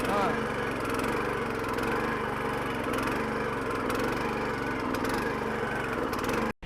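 A Sharp Garuda power weeder used for weeding on a natural farm runs with a steady, close mechanical drone, its even engine note holding through the whole stretch before cutting off abruptly at the end.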